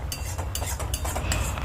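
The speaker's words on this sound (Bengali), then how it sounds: "একটু নেড়ে নিলাম" A spoon scrapes and clinks against a pan while a spice paste is stirred for an aloo potol curry, with short repeated strokes close up over a low background hum.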